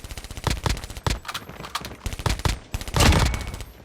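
Gun hipfire in Call of Duty Mobile: repeated short bursts of close, punchy shots in uneven clusters across a few seconds.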